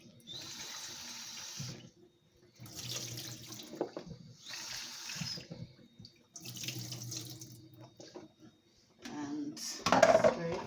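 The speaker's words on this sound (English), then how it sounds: "apple a quick wash." Tap water runs in several bursts as an apple is rinsed under the faucet, with splashing and rubbing, ending in a louder clatter near the sink.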